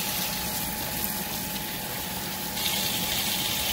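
Water runs steadily from a kitchen tap, a continuous close hiss and gush while coconut, pigtails and dumplings are prepared, growing slightly brighter and louder near the end.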